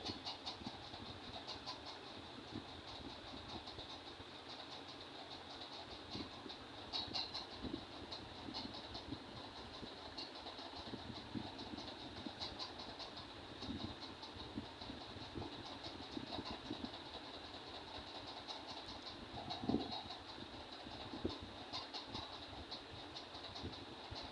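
A sewing machine stitches a kameez side seam with a continuous quiet mechanical whir and a fast, even clatter of the needle running throughout, without any talking.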